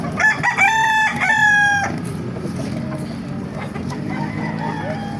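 Roosters crow loudly and close by at the Bocaue chicken market. Overlapping cock-a-doodle-doo calls fill the first two seconds, followed by clucking and market bustle.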